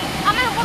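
Flood water from a burst pipe in Kharghuli rushes in a loud, steady roar, heard briefly beneath an excited shouting voice.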